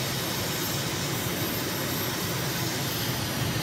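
Aircraft engine roar holds steady and loud as the plane climbs after takeoff with gear and flaps up in a flight simulator game, a continuous broadband jet rush with no speech over it.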